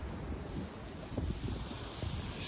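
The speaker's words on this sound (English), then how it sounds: "You've got the nice sea there." Sea waves washing onto a beach in Perth, Western Australia, a soft continuous surf wash mixed with gusty wind buffeting the microphone, fairly faint, with no talk.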